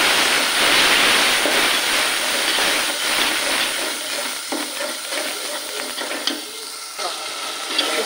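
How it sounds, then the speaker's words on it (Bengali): Onions and spices sizzle and hiss in hot oil in a pan while being stirred, a loud, dense frying sound that gradually eases slightly, with scraping stir strokes audible throughout. "এখানে আমার মশলাটা কষানো হয়ে গেছে।"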